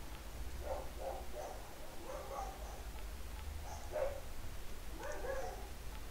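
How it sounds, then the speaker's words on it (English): Several dogs barking outside on rubbish-collection day, faint and distant bursts of yaps and barks in short clusters over a steady low rumble from the arriving garbage truck, with no talk. "The truck's rocking up and all the dogs barking."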